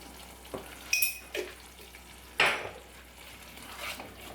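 Brinjal curry with yogurt and garam masala is stirred in a pan, with a few sharp scraping clinks of the spoon against the metal over a soft, low simmer.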